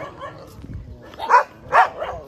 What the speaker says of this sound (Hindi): ये भौंक रहे हैं।